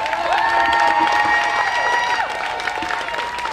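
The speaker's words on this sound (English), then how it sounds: "Let's give these young people a round of applause one more time." An outdoor rally crowd claps and cheers in a dense, sustained burst. The noise fades a little toward the end.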